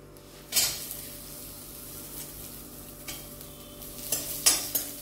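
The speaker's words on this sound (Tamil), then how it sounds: "இப்போ பூண்டு சேர்த்துக்கலாம்." Garlic fries in a little oil in a pan for idly podi. A soft, faint sizzle runs under a few sharp spoon scrapes and clinks against the pan.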